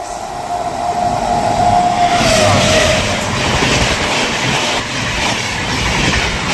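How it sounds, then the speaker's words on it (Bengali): The Howrah–New Delhi Rajdhani Express approaches, a loud, close rushing train roar with rail rumble and a brief squealing tone early on, building steadily throughout. "পথের রাজা one two three zero one Howrah new Delhi রাজধানী এক্সপ্রেস আসছে দেখুন"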